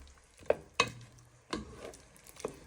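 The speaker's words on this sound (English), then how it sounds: "You want to give that a little bit of a stir in." A spoon stirring fresh coriander into a pot of pork, four separate knocks and scrapes against the pot over a quiet low sizzle, close and sparse.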